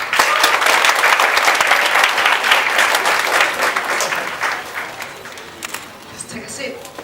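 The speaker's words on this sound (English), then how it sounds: "Please give them a big round of applause." A conference audience claps warmly for guests from a youth entrepreneur bootcamp in Vietnam, a strong burst of applause that gradually thins and fades toward the end.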